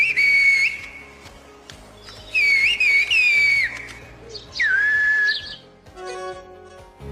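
Clear, piercing whistled phrases with sliding pitch contours in Turkish whistled language come in several separate bursts with short pauses between them.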